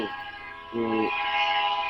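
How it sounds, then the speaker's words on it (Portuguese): A horn sounds from a freight train hauling Brazilian exports: one short, steady harmonic blast at middle distance over a constant hum, with no voices. "Estamos ouvindo o trem apitando."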